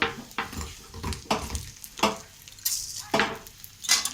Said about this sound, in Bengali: এইভাবে লাল লাল করে ভেজে নেবেন